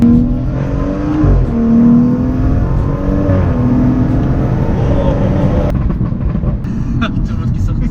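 A car engine pulls hard and climbs quickly through the revs, loud and steady, with rising harmonic tones and then a gear-change dip near the end; voices murmur faintly underneath.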